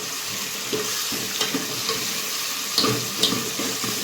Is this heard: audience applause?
no